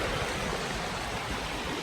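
A small river flowing by a roadside in St. Thomas, Jamaica, a steady broadband rush of running water, close and continuous with no voices.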